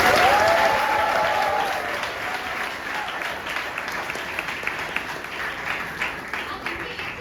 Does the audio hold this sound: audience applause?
yes